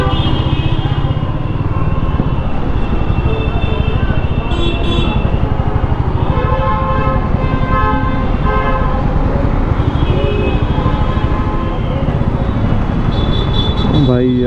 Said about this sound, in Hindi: भाई यार क्या ट्रैफिक लगा हुआ है